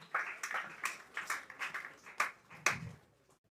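Applause from an audience at a memorial service and candle lighting, a run of separate claps rising and falling in bursts across a few seconds, moderately distant and alone without talk.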